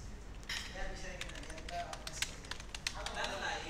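Text being typed on a computer keyboard, with quick irregular key taps clustered near and fairly soft, a voice talking faintly underneath.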